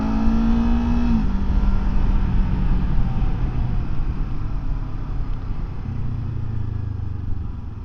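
A 2024 Kawasaki Ninja 7 Hybrid motorcycle's petrol engine takes over from electric drive, giving a close, steady engine drone with a brief pitch shift early on, then a continuous hum.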